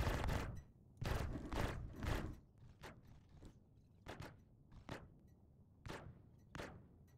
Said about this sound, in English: Just little baby shots towards it.